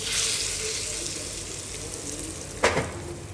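Tempering crackles in a pan of sweet-mango chutney made from grated raw mango, giving a steady sizzle with a sharp burst of crackling near the end, close up and with no talking.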